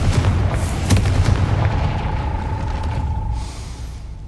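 A Confringo spell explosion in the video game Hogwarts Legacy, a loud booming blast with a sharp crack near the start, rumbling on before a thin ringing tone fades out, with no talk over it.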